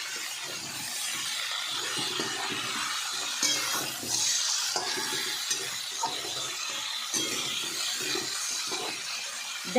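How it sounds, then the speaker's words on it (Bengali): Spices and ginger paste stirred into a vegetarian curry in a pan, with a continuous soft sizzle and scraping strokes of a spoon repeating close by, without any voices. "কিছুক্ষণ নেড়ে নেব।"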